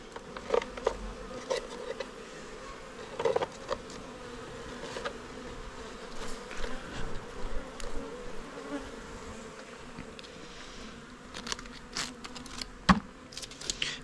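Honeybees buzz around an Apidea mating box in a continuous close hum, with small clicks and taps from handling the box scattered throughout.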